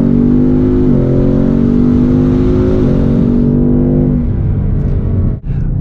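A 2020 Ford Mustang GT with a 5.0 460 hp engine accelerates hard, its loud droning engine note climbing through the revs with a shift dip midway, heard close from inside the cabin.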